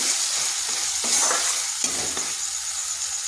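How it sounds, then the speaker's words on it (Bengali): Ground spice masala sizzling in hot oil in a pan for a jackfruit seed curry, with a steady close frying hiss and occasional stirring scrapes. "মশলা থেকে তেল ছেড়ে যাচ্ছে।"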